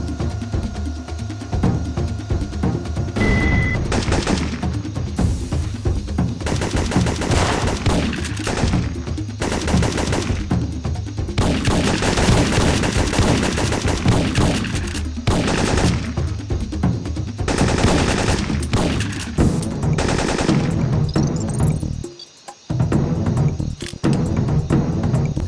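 Automated turrets in the Syphon Filter video game fire dense, loud, sustained bursts of automatic gunfire that run almost nonstop, with only a brief drop near the end.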